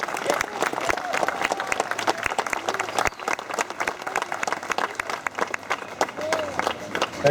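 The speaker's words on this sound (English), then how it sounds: "Give another round of applause for Rafael." An audience at a Warsaw Uprising memorial opening in New York gives sustained, dense applause, steady and fairly loud throughout, with scattered voices mixed into the clapping.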